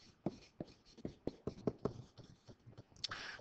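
Pen or marker writing an equation on a surface, quick faint scratching strokes in short irregular bursts, close and quiet.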